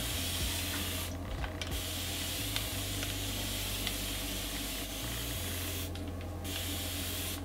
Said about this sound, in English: We're gonna spray with water. Continuous mister.